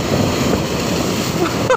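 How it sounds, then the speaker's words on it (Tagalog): Strong sea waves at Manila Bay, a continuous loud rush of surf and water mixed with wind noise on the microphone. "Grabe, ang ganda ng lakas ng alon."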